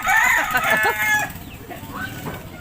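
A rooster crows loudly and close by at the chicken pens of a Philippine farm, one drawn-out call followed by softer clucking and a brief voice in the background.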